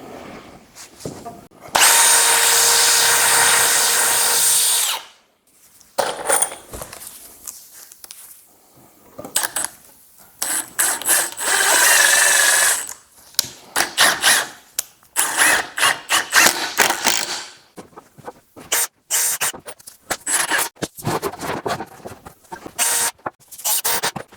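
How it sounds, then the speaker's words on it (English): A power drill pre-drilling screw holes in wooden door-frame pieces gives a long whirring burst followed by many short stop-start bursts, close and loud, with quiet gaps between. "I'm gonna pre-drill these holes."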